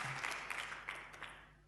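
A church congregation clapping, faint and distant, a brief patter of many hands that fades within a couple of seconds.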